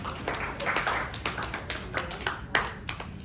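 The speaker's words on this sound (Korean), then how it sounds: "회장님 역시 박수 한번 쳐주고요." Scattered clapping at a youth church service, a small group giving a short round of irregular, fairly close claps over several seconds.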